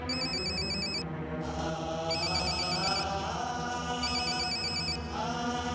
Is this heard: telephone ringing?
yes